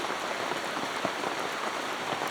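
Steady rain falls on a rainy day at a homestead, a dense, even hiss of drops pattering on surfaces with no pauses, close and moderately loud throughout with no voices.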